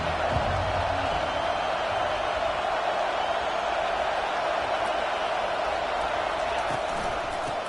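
Steady, dense crowd roar fills a Madden football video game stadium, loud and continuous throughout with no break or pause.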